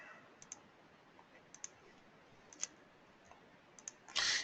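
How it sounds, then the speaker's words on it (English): Computer keyboard keys clicking sparsely and fairly faintly as amounts are typed, with single taps spaced out irregularly and a louder burst of keystrokes at the end. "you'll notice as I'm typing in those amounts"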